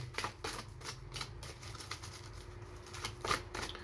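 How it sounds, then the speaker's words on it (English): A deck of Earth Magic Oracle cards is shuffled by hand, steady soft riffling and slapping of cards repeating close by for several seconds, with no voices. "Today we are working with the Earth Magic Oracle cards, and I'm going to give them a good old shuffle before we get started"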